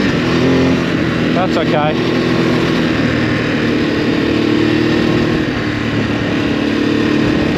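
A Ducati Desert X motorcycle engine runs on throttle during on-board riding, a steady loud drone with wind rush, and a brief spoken remark over it.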